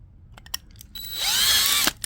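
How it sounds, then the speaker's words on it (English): A power drill spins up and whines steadily for under a second, its pitch rising then settling, preceded by a few light clicks and taps. "it's going to take a little bit more drilling."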